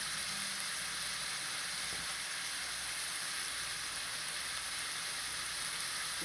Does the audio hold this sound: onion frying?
yes